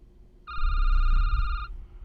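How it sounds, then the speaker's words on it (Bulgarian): A telephone rings once in the Security Booth video game, a bright steady electronic trill lasting about a second over a low background rumble. "Телефона пак звъни."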